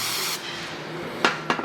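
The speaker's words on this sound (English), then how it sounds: "we're going to hit it with some carburetor spray" A burst of carburetor cleaner sprays onto a rear differential cover of a 2001-2007 Toyota Highlander, a sharp hiss for a moment, then silence broken by two short spritzes near the end.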